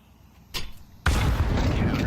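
A grenade explodes in the Rainbow Six Siege video game: a brief sharp crack, then a sudden heavy blast that swells into a loud, sustained rumbling roar.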